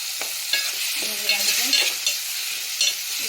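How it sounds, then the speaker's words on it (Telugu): Tomatoes frying for egg curry, stirred in a hot pan: a bright constant sizzle with occasional scraping and tapping from the spoon, close and loud, with no talking. "ఇప్పుడు టమాటా మొత్తం అయితే కలుపుతున్నాం"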